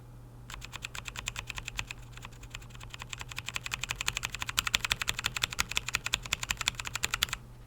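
A single key on a mechanical keyboard is pressed over and over in fast succession, making a crisp, close train of clicky strikes that grows louder and denser before it stops abruptly, with a faint low hum underneath.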